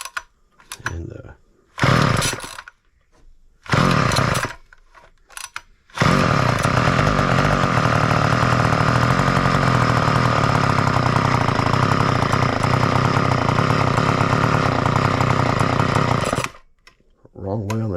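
A vintage Ohlsson & Rice Drillgine, a gas-engine cordless drill, sputters in brief bursts during starting attempts, then catches and runs with a loud, steady buzzing two-stroke drone for about ten seconds before cutting out.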